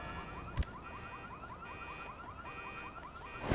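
Car alarms sound after an explosion in modded GTA 5, a repeating rising electronic whoop cycling steadily at moderate distance, with a couple of sharp knocks breaking in.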